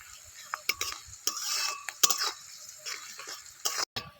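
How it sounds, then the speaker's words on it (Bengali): Sliced onions fry in a pan with a pinch of salt and sugar, browned for a chicken curry. A spoon stirs and scrapes through them in sharp clinks and taps over a faint, steady sizzle. "পেঁয়াজটা আমার ভাজা হয়ে গেছে"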